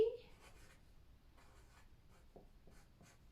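A pen writes a number on paper in a second-grade math lesson, producing a few short, faint scratching strokes close by with quiet pauses between them.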